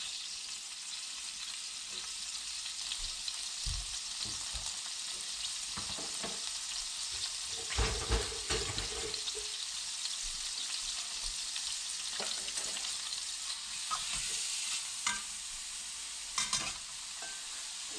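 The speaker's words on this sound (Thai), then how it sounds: "เบคอนลงไปเลยค่ะ" Bacon sizzles and fries in a pan for stir-fried yellow noodles with mixed vegetables, giving a steady hiss with intermittent stirring and scraping clatters and no talking.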